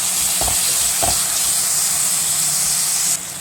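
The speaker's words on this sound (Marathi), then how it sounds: "आता टोमॅटो घालून घेऊया परतून घेऊया" Onion and tomato, sprinkled with a little salt, fry in a pan with a loud continuous hissing sizzle broken by two soft thumps of stirring early on, before the hiss drops slightly near the end.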